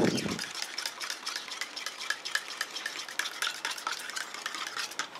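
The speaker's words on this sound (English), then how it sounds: "go ahead and give part B a good stir" Part B of a beeswax candle mixture being stirred in a container, a steady close scraping and clinking that goes on without a break and with no talk.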